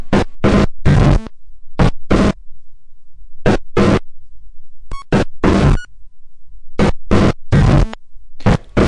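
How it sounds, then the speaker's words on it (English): A drum run through a filter modulated by an oscillator gives bizarre, creepy, whizzy high-end harmonics, loud choppy bursts in an irregular stuttering rhythm separated by near silence. "it's going to produce this really bizarre, cool and creepy, high-end, whizzy thing, which sounds like this"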